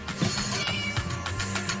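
Cat meowing indoors, a few close, loud, drawn-out meows one after another, with no talk over them.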